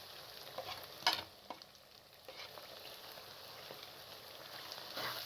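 Mashed eggplant frying with oil and dry spices in a pan for baingan bharta, a steady soft sizzle with scraping stirs, one louder stir near the start and a few lighter ones after.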